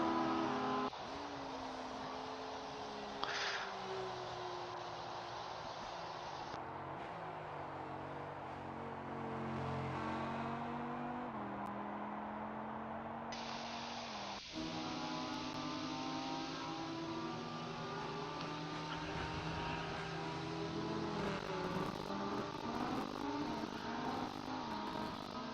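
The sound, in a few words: Audi GT3 race car driving at Hockenheim in video game Rennsport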